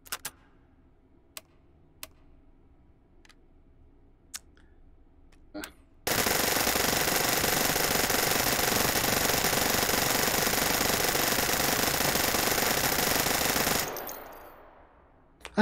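After a few sparse clicks of weapon handling, an American 180 submachine gun in the VR game Hot Dogs, Horseshoes & Hand Grenades fires one long, loud, unbroken burst for about eight seconds, then the sound decays away.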